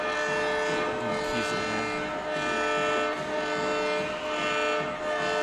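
A big crowd of Bothell high school students roars in a stadium as the team takes the field, a loud continuous wall of cheering and chanting with sustained tonal blaring like horns, steady throughout.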